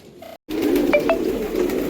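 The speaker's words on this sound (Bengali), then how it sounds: "দেখুন পায়রা ছাড়ার পর কীরকম দুরন্ত হয়ে যায় ঘরটা আর পায়রাগুলো" Freshly released pigeons coo and flutter steadily in an enclosed room, with a couple of brief higher chirps over a dense, continuous murmur of birds.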